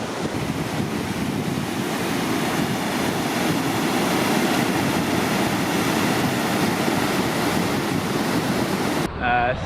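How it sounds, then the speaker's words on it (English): Rushing whitewater of a class 2 or 3 rapid as canoes paddle through, a loud, steady broadband roar of churning water filling the whole span, with a brief cutoff near the end. "We just got to the next class 2 or 3 rapid."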